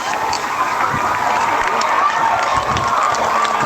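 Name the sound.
applause from home football crowd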